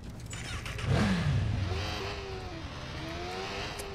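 A motorcycle engine in the Watch Dogs video game revs up sharply, rising and falling in pitch as it accelerates, then settles into a steady higher drone, fairly close and moderately loud.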